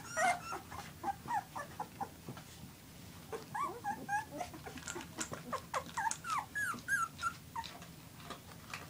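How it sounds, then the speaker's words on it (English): Newborn puppies, eyes just starting to open, squeak and whimper in a litter box as they stir about, a steady chorus of thin high cries close by. "I was just getting ready to change the puppy sheet, and Sadie jumped in"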